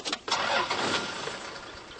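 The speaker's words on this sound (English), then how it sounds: "Keeping your feet away from the clutch and accelerator, start the engine." A 4WD vehicle's engine cranks and catches with a sharp start, then settles into a loud, steady idle that fades slightly, heard close up and alone.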